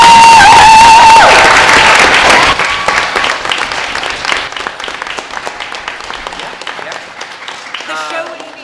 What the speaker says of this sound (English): give a big round of applause to our production team